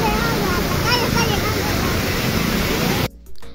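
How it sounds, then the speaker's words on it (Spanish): Water pouring loudly inside a water tunnel at a water park, a dense close rushing roar that runs steadily before cutting off abruptly near the end, with voices faintly mixed in. "Por fin vamos a entrar al túnel de agua."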